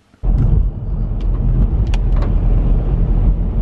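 A car driving along a wet road on a rainy day, a steady, fairly loud broadband rumble of engine and tyre hiss that starts abruptly and carries on, with faint splashy ticks over the top.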